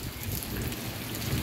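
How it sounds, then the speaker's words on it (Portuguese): Heavy rain pouring onto a street in Paramirim, Bahia, during a thunderstorm, a dense, even hiss of falling water, close and steady over a brief stretch, with no voices. "Chuva boa nesse exato momento."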